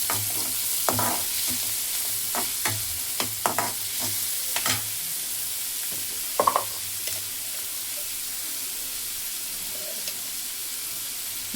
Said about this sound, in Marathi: आता कांदा टाकते आणि कांदा चांगला लाल करते.